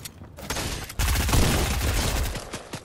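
Gunfire in the video game Fortnite: a quiet opening with a few scattered shots, then a loud sustained burst of rapid automatic fire that keeps sounding until the end.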